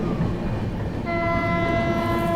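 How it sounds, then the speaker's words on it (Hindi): Prayagraj Express speeding through Shikohabad Junction without stopping, a loud close rumble of wheels and carriages with a sustained horn sounding over the roar partway through. "यहाँ पर अपनी प्रयागराज एक्सप्रेस जो है स्किप करने जा रही है शिकोहाबाद जंक्शन को"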